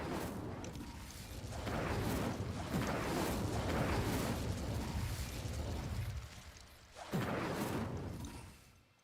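The Incendio fire spell in Hogwarts Legacy erupts in loud, roaring bursts of flame, a sustained whooshing blast that dips briefly near the end and then flares up again before fading.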